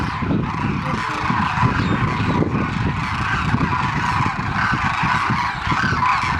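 Demoiselle cranes call at Khichan, a dense, loud chorus of overlapping honking and trumpeting cries from a large flock, continuous throughout.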